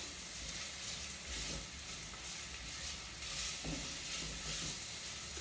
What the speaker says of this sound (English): Once the onions are fried, I've got the ginger garlic paste.